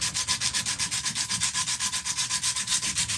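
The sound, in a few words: Dremel rotary burr grinding a spoon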